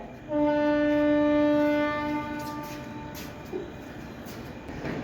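A train sounds one long, loud horn blast at Lonavala railway station, then its rumble continues steadily in the background.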